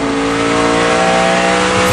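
NASCAR stock cars racing at Watkins Glen in 2011, including Jeff Gordon's No. 24 car, roar loud and steady at close range, with the dense engine drone holding throughout and no talk over it.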